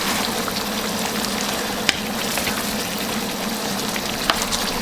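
Chicken cooks in yogurt in a karahi with a dense, continuous sizzle and bubbling. A couple of sharp clicks cut through it, and no one speaks.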